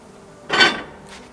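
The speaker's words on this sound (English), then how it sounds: "And then we get the lid off of our Dutch oven over here." A single short metallic clank as a heavy lid comes off a Dutch oven, close and fairly loud, followed by a faint softer touch a moment later.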